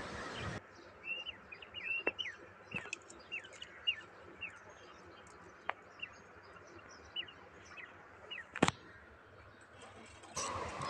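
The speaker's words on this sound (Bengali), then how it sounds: "কিন্তু ওরা একটু একটু ডাকাডাকি করে বোঝা যাচ্ছে" Quail call from a basket of birds with short, sharp chirps and calls scattered across the quiet scene, fairly close but soft, with occasional louder clicks and no talk.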